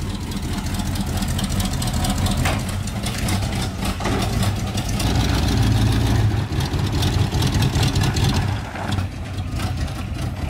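A car engine idles loudly and close by, a continuous rough low rumble with a slight mechanical rattle that swells a little midway, with no talking.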